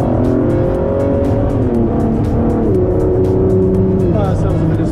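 A car's engine accelerates at Le Mans while closing up behind a Renault Espace during a Ford Performance drive. A loud, continuous engine drone heard from inside the car holds, then shifts and dips in pitch as it revs.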